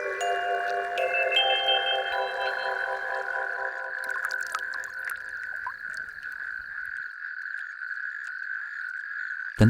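A natterjack toad in a shallow pond gives a loud, continuous rolling croak that carries steadily for most of the stretch, stopping near the end before a brief thump.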